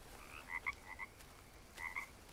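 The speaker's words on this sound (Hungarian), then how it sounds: "itt van egy pár azért béka" Frogs croak in the survival video game Green Hell, two short bursts of rapid, chirping croaks separated by a pause, moderately near over a steady jungle ambience.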